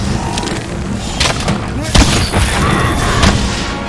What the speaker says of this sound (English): We're going to do a fully charged dragon piercer shot straight through him